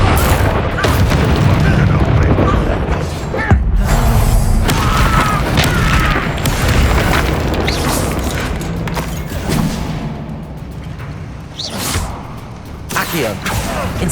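Spell blasts in the video game Hogwarts Legacy crash out as repeated heavy booms and whooshing bursts amid combat, loud and dense, with voices talking over the action.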